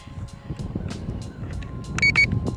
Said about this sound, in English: Two beeps, so we're gonna be in a higher rate now.